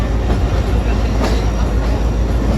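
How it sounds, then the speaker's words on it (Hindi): The 146 Down Sukkur Express passing, a loud continuous rail rumble with clattering wheels close by, steady through the whole stretch. "तो ये डाउन में ट्रेन आ गई है, 146 डाउन है, वही होगी 146 डाउन सक्कर एक्सप्रेस।"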